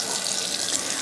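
A kitchen tap runs steadily, a close, even rush of water into the sink with no voices over it.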